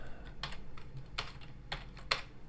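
Sparse keystrokes on a computer keyboard, four quiet clusters of taps spread over a couple of seconds against a low background hum, with no talking.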